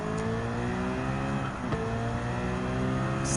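A hypercar engine in Gran Turismo 7 holds a steady, loud, close drone with layered harmonic whine, briefly dipping in pitch as the gear changes midway, then pulling on again with no talk over it.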